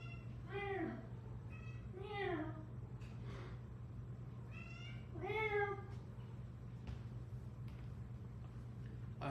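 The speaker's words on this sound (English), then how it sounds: "hope y'all can hear the meowing." A talkative pet cat meows three or four times in separate, clear, rising calls over a steady low indoor hum, with a few faint knocks in between.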